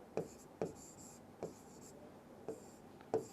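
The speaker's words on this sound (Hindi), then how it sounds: "मैं इधर लिख देता हूँ" Chalk or marker strokes on a classroom board make five sharp tapping scratches at uneven intervals over a faint room hiss, with a teacher talking quietly in the background.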